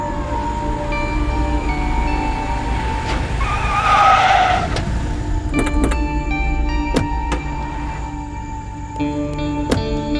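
A car pulls away with a rising engine note and tyre noise, passing close and loud before fading, against a steady background hum.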